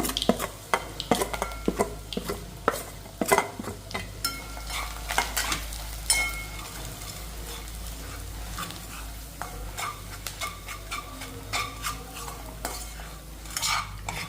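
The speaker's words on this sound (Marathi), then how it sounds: "आपला हा मसाला हा आता छान असा परतवून घ्यायचा" Masala being stir-fried in a pan, with a spatula scraping and clattering against the metal in irregular bursts over a steady low sizzle, close and fairly loud, no voices.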